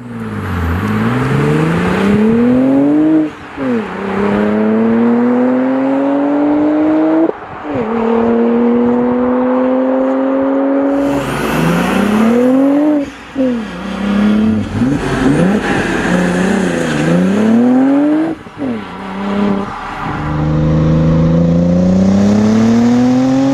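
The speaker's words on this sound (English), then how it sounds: "it's the most beautiful engine sound in the world" An Audi RS4 B5 Avant's 2.7 biturbo engine revs repeatedly, climbing in pitch through the gears with brief lifts between pulls, loud and close, no talking.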